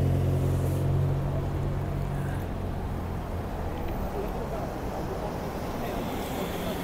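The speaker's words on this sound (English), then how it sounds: "motorbikes like this passing" A motorbike engine drones past, a steady low rumble mixed with wind noise that is loudest at the start and then fades to a duller wash as it moves away.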